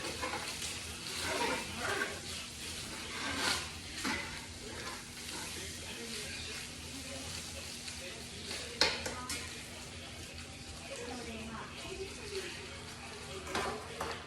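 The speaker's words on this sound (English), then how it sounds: "Okay, so I'm gonna mix the flour in here." Flour being stirred into melted butter in a pan for a white cheddar chicken pasta roux, a steady scraping stir over a soft sizzle, with faint clinks of utensil on pan throughout.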